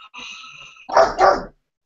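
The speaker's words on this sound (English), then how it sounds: "Is that your dogs?" Dogs give two loud, close barks in quick succession after a faint whining tone.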